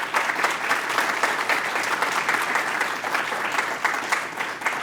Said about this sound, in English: Can we give our principal another round of applause?